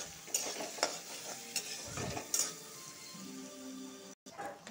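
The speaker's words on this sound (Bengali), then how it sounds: "পেস্টটা ভালো করে ভেজে নিব।" A spice paste with salt and turmeric fries in a pan as a spoon stirs it, giving soft scrapes and taps over a gentle sizzle, fairly quiet, with a brief silence near the end.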